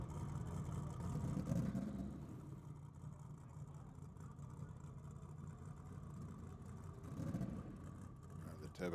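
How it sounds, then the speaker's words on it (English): Turbocharged Ford Capri drag car at Sydney Dragway under lights, a low rumbling engine at a distance, swelling slightly at moments over a steady background with faint crowd or announcer murmur. "The turbocharged Capri."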